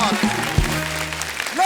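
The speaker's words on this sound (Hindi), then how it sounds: "उनके लिए जोरदार तालियां हो जाए" Studio audience at a Hindi comedy show applauding steadily through the whole moment, with voices and a sung or hummed tone woven in underneath.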